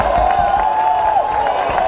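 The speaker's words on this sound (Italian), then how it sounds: "Finisce il primo round, applauso." Crowd noise at a European title fight between Jonathan Invernino and Simoh Saher Touati as the first round ends, a steady loud roar with scattered clapping running continuously throughout.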